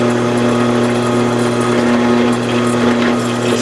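A drill steadily hums at close range while chamfering screw holes in a metal knife liner for custom Emerson Commander scales, a continuous loud motor whine with no talking.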